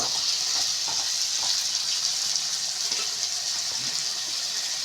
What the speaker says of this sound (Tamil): ஸோ இன்னும் கொஞ்சம் சால்ட்டு போட்டுட்டு நல்லா வதக்கிக்கலாம்